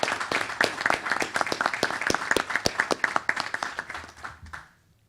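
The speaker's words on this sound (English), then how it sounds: "I like to give her a hand of applause" An audience at a meeting claps for several seconds, a dense burst of close applause that thins into scattered claps and fades out near the end.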